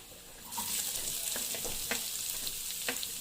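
Garlic frying in a pan while cooking sinigang sa miso: a steady close sizzle with scattered clicks and scrapes of stirring over it, no talking.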